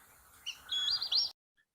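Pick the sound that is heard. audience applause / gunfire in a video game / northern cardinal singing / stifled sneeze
northern cardinal singing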